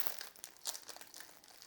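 Foil wrappers of Pokémon Sword and Shield booster packs crinkle and tear in quick irregular bursts, close and fairly soft, with no talking.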